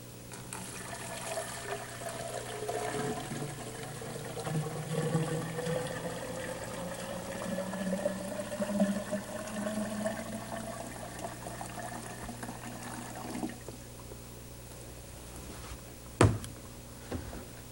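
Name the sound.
colored water poured into a container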